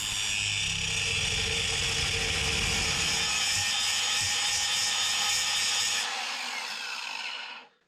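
A power saw cuts through a welded-on piece of a Jeep transfer case, grinding steadily and loudly at close range for about six seconds before the blade stops and spins down to silence.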